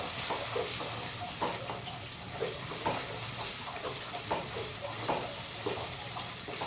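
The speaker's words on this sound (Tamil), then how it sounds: "கொஞ்ச நேரம் நல்லா வதங்கட்டும்." Onions with green chilli and curry leaves sautéing in a pan for a cassava snack, giving a continuous close sizzle and hiss with soft rhythmic stirring scrapes.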